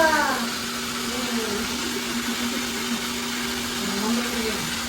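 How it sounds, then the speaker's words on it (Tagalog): A reverse osmosis pump motor runs steadily in a water refilling machine, a continuous mid-level hum with a faint whine, while a person talks over it. "pag binuhay natin yung row, aandar po yung motor"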